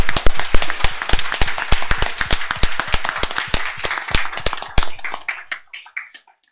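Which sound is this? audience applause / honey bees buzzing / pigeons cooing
audience applause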